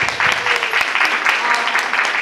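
Audience applause at a church year-end celebration, a dense wash of many hands clapping steadily and fairly close throughout, with a voice faintly mixed in.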